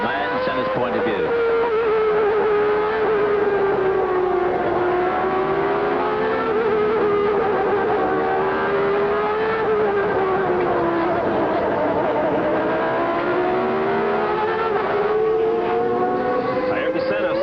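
Ayrton Senna's Formula 1 car at the 1989 Japanese Grand Prix at Suzuka, heard onboard: a loud, steady high-revving engine whine rising and falling through gear changes and corners, continuous for the whole stretch.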